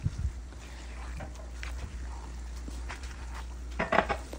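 Pancit canton noodles being tossed and mixed in a pan, with soft scraping and metallic clinks of a utensil against the pan over a low hum, sharper clatters near the end.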